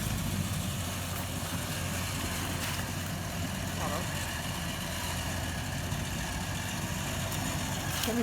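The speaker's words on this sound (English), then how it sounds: "Just going to use the winch to help drive the vehicle up a little bit." A 4WD vehicle engine idles and labours steadily while winching up a steep, low-traction bush track in Wombat State Forest near Blackwood, a constant low hum with a few faint knocks, with no other sound standing out.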